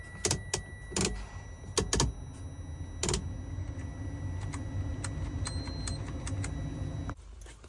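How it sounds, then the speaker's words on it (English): Ignition key turned on a Freightliner truck that will not crank: a handful of sharp clicks and relay ticks spaced over several seconds, above a low steady electrical hum that cuts off near the end. "let's go turn the key, let it cycle"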